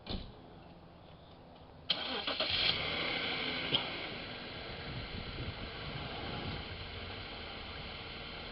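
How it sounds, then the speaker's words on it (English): A car engine cranks and catches with a sharp onset, then settles into a steady running hum, close by, with no talk, just after an oil change with the car up on ramps. "after we start the engine, check the oil again"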